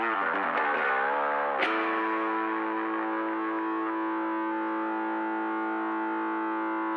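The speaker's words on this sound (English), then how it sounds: "then I'm going to click on the distortion" Bass guitar played through a distortion effect on a Yamaha, Hartke, EBS and Keeley bass rig: a thick, buzzing, distorted tone starts with a few shifting notes, then one sustained note rings steadily at even loudness with no talking.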